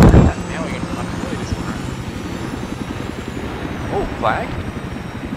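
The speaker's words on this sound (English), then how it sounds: "Oh, the heli! You're flying." A helicopter in a video game gives off a steady low rotor chop and engine drone that continues under excited voices, with a sharp burst at the start.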